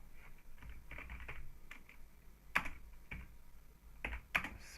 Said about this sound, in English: So we type pirate again